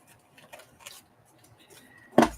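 Scissors trimming slightly damp mixed-media paper, a few soft snips and rustles ending in one sharp, louder cut near the end, close up in a quiet room.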